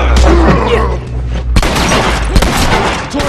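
Bomb blasts in The Last of Us multiplayer at a high school setting: a loud deep boom with rumbling tail, then two more sharp explosive cracks spaced about a second apart amid gunfire and scattered noise.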